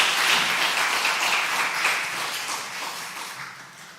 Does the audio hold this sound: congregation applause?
yes